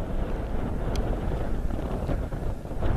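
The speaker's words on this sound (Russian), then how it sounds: "Ветер жесть." Strong wind buffets an outdoor microphone around an old house site during a metal-detecting dig, a steady loud rumble throughout with a few faint brief clicks.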